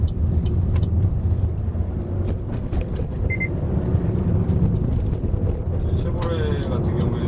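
Inside a Chevrolet Aveo 1.6 hatchback with a manual gearbox, the engine hums and rumbles steadily as it accelerates through the gears, under continuous talk from the driver.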